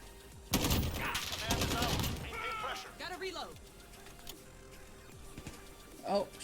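Gunfire in a video game shooter, with a loud burst of rapid automatic shots, then a few scattered single shots and another short burst near the end, while a voice talks over the action.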